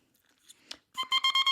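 An oboe reed crows a C pitched slightly sharp: after some faint handling noise and a brief click, a close, bright buzzing tone sounds in several short pulsing bursts.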